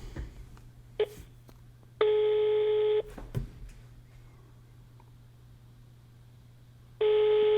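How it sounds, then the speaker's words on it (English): A telephone call ringing out: two clear, moderately loud ring bursts about a second long, separated by a quiet pause with a faint low hum and soft clicks. "It's ringing."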